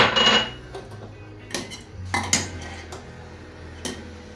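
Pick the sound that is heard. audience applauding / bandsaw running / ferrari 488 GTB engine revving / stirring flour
stirring flour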